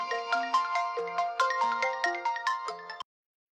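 A phone ringtone plays a bright, rhythmic electronic melody of quick repeated notes, clear and close, then cuts off abruptly.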